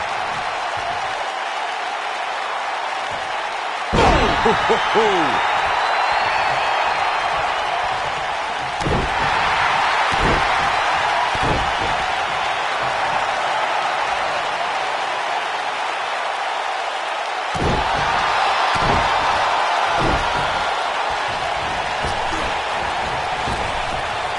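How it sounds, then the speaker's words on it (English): A wrestling arena crowd roars steadily throughout a match, a broad loud wash of voices broken by several sharp slams of bodies hitting the ring. "by the sound of this crowd, I think they're getting what they wanted"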